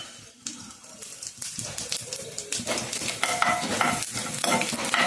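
Coriander seeds and cumin frying in a little oil for mint chutney, a crackling sizzle that builds in loudness while a utensil stirs and scrapes the pan, close and with no talking.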